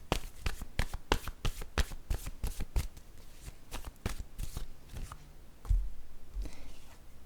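Tarot cards being shuffled by hand, a run of crisp riffling snaps and flutters in an uneven rhythm, close and fairly quiet, with a soft thump near the end and no talk.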